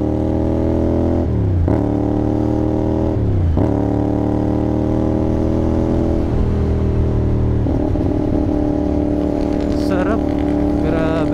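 CFMOTO 450NK motorcycle with a cat-delete SC Project exhaust, its engine rising in steady loud revs through several gear shifts, each change marked by a brief dip before the pitch climbs again, close and continuous.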